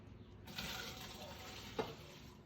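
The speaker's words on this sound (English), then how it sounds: "Now we're going to drain the water from the pasta away from your face." Water from cooked pasta pours out into a sink, a steady splashing rush that starts abruptly and runs continuously, with a single louder splash partway through and no talking.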